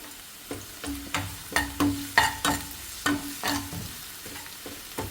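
Ginger and garlic fry in a pan, a teaspoonful stirred through with repeated spoon scrapes and clicks over a steady low sizzle, close and moderately loud, with no talking.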